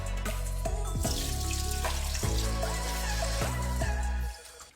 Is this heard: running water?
yes